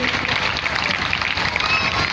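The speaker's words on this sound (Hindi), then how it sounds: "तालियां नहीं बजाएंगे क्या मेरे भैया के लिए?" A crowd at a Devi Bhagwat Katha gathering claps in a short burst, a busy wash of applause held at an even level throughout.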